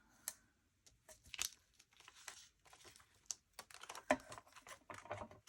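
Double-sided tape being cut and torn off on a paper planner craft project, a string of faint crinkly tearing and snipping sounds, close and quiet with no talking.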